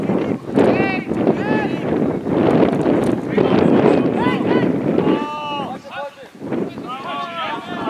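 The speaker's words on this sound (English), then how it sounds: "Strong wind." Strong wind buffets the microphone during a May Day sailboat race, a loud rushing roar that surges and dips across the whole stretch. Several voices call out over it from a boat.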